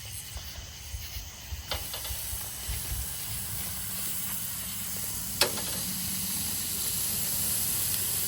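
Pork chops sizzle on a grill set up on a trailer beside a Louisiana swamp, a steady close hiss that builds slightly over time, with a few faint clicks and pops.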